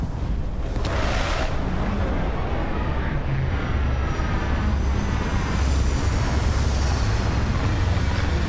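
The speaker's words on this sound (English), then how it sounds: "Starting landing procedure." A spaceship lands in the video game Starfield with a loud, continuous low engine roar and broad rumbling thrust. The roar stays dense and steady throughout, without speech.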